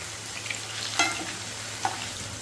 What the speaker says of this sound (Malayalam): ഇനി ഒന്ന് നമുക്ക് പതുക്കെ ഒന്ന് മറത്തി കൊടുക്കാം